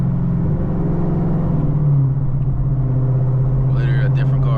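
A stage 3 cammed Chevrolet Camaro ZL1 with a manual gearbox and an X-pipe exhaust rumbles with a loud, steady, low engine drone heard from inside the car, and a brief voice comes in near the end.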